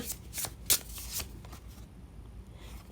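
Tarot cards are shuffled in a short close burst of crisp riffling and flicking, loudest near the start and then settling into quiet.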